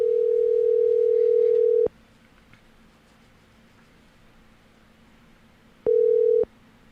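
Steady telephone dial tone while phoning a friend, a loud continuous hum lasting about two seconds, then a long silence before a second shorter burst of the same tone.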